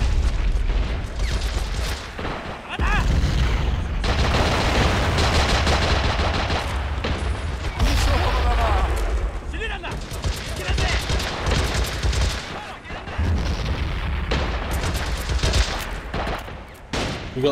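Battlefield video game combat with repeated heavy explosions, bombardment booms and bursts of gunfire rolling across several seconds, loud and close, with a player talking between blasts.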